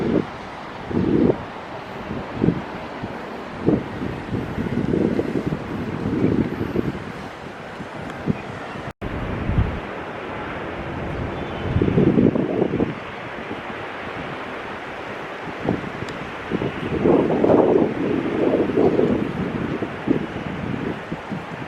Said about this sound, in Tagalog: Lakas nga na hangin